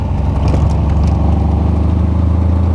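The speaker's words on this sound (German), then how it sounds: "Also Motor hört sich toll an. Auto ist schön laut, hat eine tolle Trompete" A 1938 BMW 328 Roadster engine runs steadily while driving, loud and close, with a throaty, even drone and a light mechanical clatter throughout.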